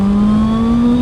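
A QJ Motor SRK 921 motorcycle in sport mode revs hard and loud up close, a steady buzzing engine note climbing slightly in pitch without pause.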